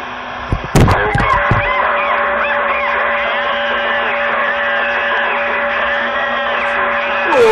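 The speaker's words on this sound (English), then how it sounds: "We got a squawking bird, and we start the radio gate with a chicken squawking bird." Chicken squawks in a burst of loud, harsh cries at the start, then goes quiet under a steady background hum.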